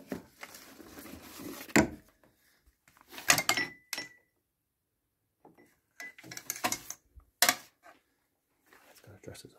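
Wooden drawer in an abandoned cottage handled and rummaged through, several sharp knocks, slides and clunks in separate bursts with quiet gaps between, recorded close in a hushed room.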